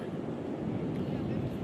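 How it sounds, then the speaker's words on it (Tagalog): Strong wind buffets a microphone outdoors in Australia, a dense, continuous low rumble that stays loud and steady for the whole moment with no clear break. "Alam ko narinig niyo ako, guys, kasi medyo malakas yung hangin."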